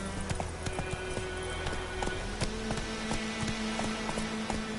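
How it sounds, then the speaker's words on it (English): Rapid clip-clop of a horse galloping in The Witcher 3, steady hoofbeats running continuously and close by over a low ambient bed, with no voices. "Giddy up."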